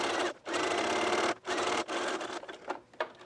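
Sewing machine hemming the skirt of a dress, running in several bursts of rapid mechanical whirring separated by short pauses, close and fairly loud, with shorter stitching runs toward the end.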